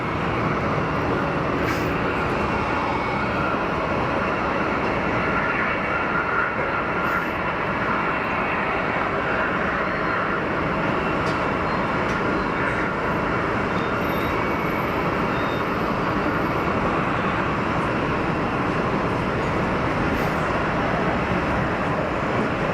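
A Saudi airliner taxis at Geneva Airport, a loud, steady broadband jet engine roar that holds constant throughout, with no speech.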